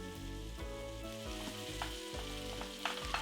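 Onions, ginger and garlic fry in a pan for chicken soup, making a continuous close sizzle with light stirring scrapes that grow busier toward the end.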